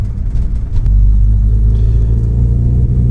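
Ford XR3i cabriolet engine held at full throttle in second gear, a loud, steady low rumble that swells after a brief uneven start and then drones on without pause.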